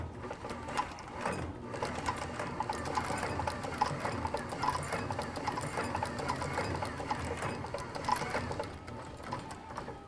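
A sewing machine stitches a skate tendon guard in a continuous fast, rhythmic mechanical whir and clatter, close and moderately quiet, running steadily without pause.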